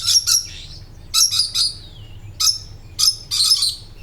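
Sharp, bright parrot calls in short repeated bursts, loud and close with brief pauses between each squawking cluster.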